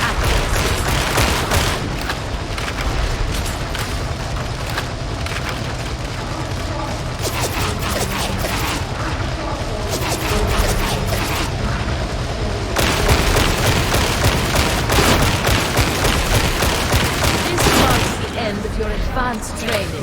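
Dense, continuous enemy ranged gunfire from Warhammer 40k Darktide crackles and rattles for the whole stretch, with dense volleys and mechanical clatter and voices mixed into the loud, unbroken barrage.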